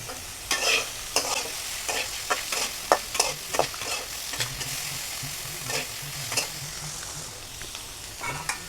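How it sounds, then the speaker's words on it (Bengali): A pan of food is lightly fried with a soft sizzle while a spoon scrapes and stirs it in quick, irregular strokes close by, with no voices. "একটু হালকা ভেজে নেব, বেশি ভাজানোর দরকার নেই।"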